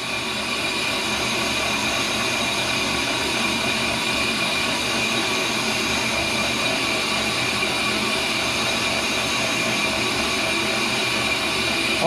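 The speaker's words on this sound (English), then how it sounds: "we're approaching the end of the rotor and it's still cutting nice and quiet." A brake lathe cutting a brake rotor, giving a loud, continuous, even mechanical whir with broadband hiss, steady and unbroken with no talk.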